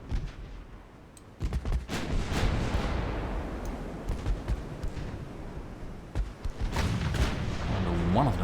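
Naval guns firing during a battle in the Ultimate Admiral: Dreadnoughts video game, a series of sharp booms and rumbling blasts scattered irregularly through the stretch.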